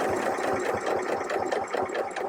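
Janome Skyline S7 sewing machine stitching stretch material, a steady close mechanical whir with a fast regular needle rhythm throughout.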